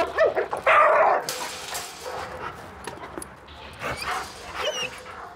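Two dogs meet, giving a loud close bark followed by whimpers, yips and shuffling movement, with quieter whines trailing off.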